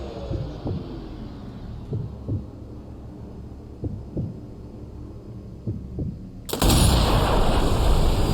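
A single loud sniper rifle shot in Sniper Elite V2 cuts in abruptly after a slow, steady heartbeat-like thumping under a low hum, and its blast fills the closing seconds.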